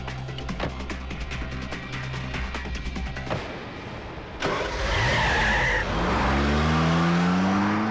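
A car engine revs with sharp, near tire squeals as the car takes off; a rhythmic rattle opens, a sudden burst follows, then loud skidding swells over a rising engine roar to the end.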